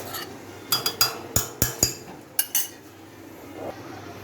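Glass clinks sharply several times as a sabudana tapioca drink is poured into glasses and a jug, a scattered series of bright, close ticks and knocks over a soft background hiss, then quiet, with no voices.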